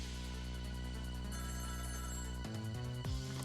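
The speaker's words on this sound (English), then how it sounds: "Every time that phone rings, it's bad news." Telephone ringing in the video game Ghost Trick, a steady electronic ring tone with layered harmonic tones that shifts pitch partway through, clear and alone without talk.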